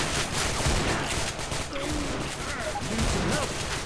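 Continuous heavy gunfire in the zombie shooter Left 4 Dead 2, a dense, loud barrage of overlapping shots under several players talking.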